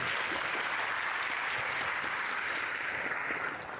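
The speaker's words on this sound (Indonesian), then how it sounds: "Tepuk tangan buat semuanya." Dense, steady applause from a large school assembly of students and staff in Jakarta, filling the room evenly for a few seconds before easing off slightly at the end.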